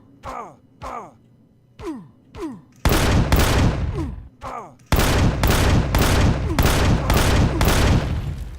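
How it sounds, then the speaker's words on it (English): Anti-personnel turrets in the space survival game Empyrion fire repeated loud bursts during a night raid on a point of interest, with the bursts growing longer and denser toward the end, and voices groan between the early shots. "deal with some of those anti-personnel turrets, I guess they were, that were shooting at us"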